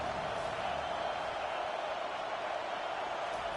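Steady stadium crowd roar at an American college football game, a dense, continuous wall of noise holding at an even level throughout with no individual voices standing out.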